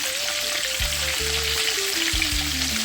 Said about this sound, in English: My oil is bubbling up.